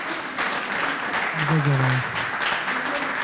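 A live audience at a television music show applauds a guest with a dense wash of clapping, while a voice briefly sings or speaks over it near the middle.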